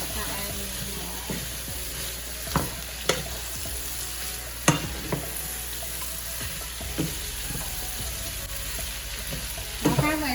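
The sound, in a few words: stirring and frying cabbage in a pot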